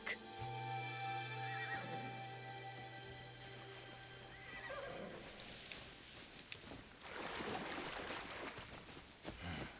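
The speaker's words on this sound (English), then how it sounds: "This horse has seen better days. Approach slowly, but with confidence." A horse in Assassin's Creed Shadows whinnies in a long, shrill neigh, followed by hooves clopping and rustling background noise.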